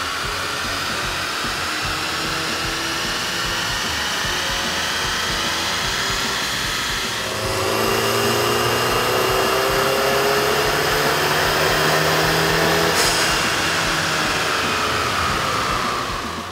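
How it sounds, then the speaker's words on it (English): A 2009 Audi A3 with a 2.0-liter engine and a K&N cold air intake runs on a dyno, giving a steady loud roar that swells in pitch partway through as revs climb, then holds high before easing. "With the air intake installed, we ran the vehicle on the dyno to test the sound comparison versus the stock intake"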